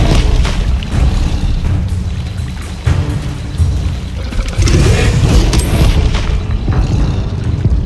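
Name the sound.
Bombarda blasting spell explosion in the video game Hogwarts Legacy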